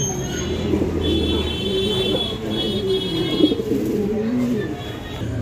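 A single shorting pigeon coos in low, soft, repeated phrases close by, while someone talks over it and a steady hum runs underneath.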